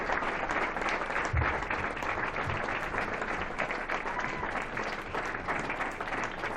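A comedy club audience in Sydney breaks into steady, dense applause after a stand-up set, sustained and fairly close with a few faint voices mixed in.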